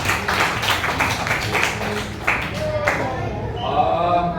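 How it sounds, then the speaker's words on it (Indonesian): A primary school class claps for a pupil in a short burst of close, fairly rhythmic hand claps that fades into children's chatter and an adult voice. "Oke, tepuk tangan buat Zedan."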